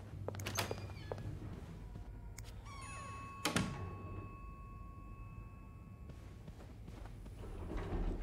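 Jammed elevator doors in the video game This Bed We Made give a few sharp clunks and a loud metallic bang, followed by a thin, sustained ringing tone over a low ambient hum.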